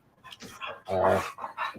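A pet dog at home makes short barks and growly whimpers close by, mixed in with people talking.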